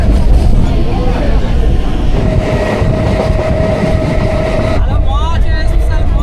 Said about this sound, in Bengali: আর অলরেডি আমাদের ট্রেন কিন্তু ছেড়ে দিয়েছে প্ল্যাটফর্ম থেকে।